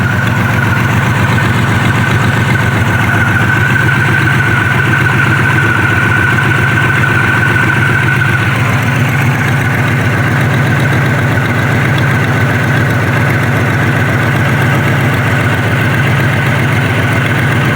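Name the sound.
engine idling with exhaust leaks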